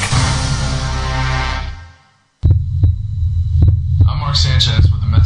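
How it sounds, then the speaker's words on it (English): A human heartbeat played back as a recording: steady low thumping pulses with a faint hum, beginning after a brief fade out of preceding sound, with other material rising toward the end. "This is the actual sound of my heartbeat."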